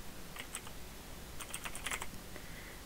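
Keys tapped on a computer keyboard while entering text for a header design, in two short irregular bursts of clicks close to the mic over a faint room hiss, with no talking.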